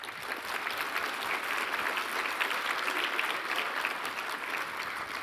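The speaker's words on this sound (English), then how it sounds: "big applause for that team" A large audience at a Roblox developer conference keynote applauds a team, producing dense, sustained clapping that fills the hall evenly and stays steady throughout, with no voices standing out.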